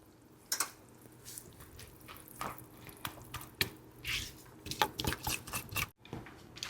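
Cornbread batter is poured into a pan on a stovetop, giving soft, wet plops and squishy dribbles in a quiet kitchen, with a brief silence near the end.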